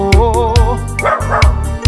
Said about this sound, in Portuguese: e o cachorrinho latindo pedindo churrasco.